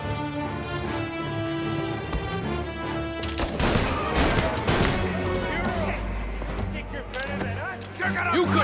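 Mafia Definitive Edition gunfire plays as loud, close shots and bursts over a music score, with a voice shouting briefly amid the action.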